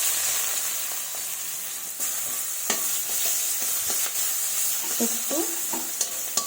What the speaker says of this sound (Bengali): এরপরে ওই তেলেই আমি পেঁয়াজ কুচি ছেড়ে দেব। পেঁয়াজ কুচিগুলো ছেড়ে দিলাম।